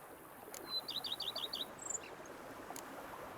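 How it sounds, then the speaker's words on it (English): Birds chirp in the video game The Witcher 3 (Blood and Wine), a quick run of about half a dozen bright chirps over a steady stream-like outdoor ambience, with no one talking. "Bees buzzing, birds chirping."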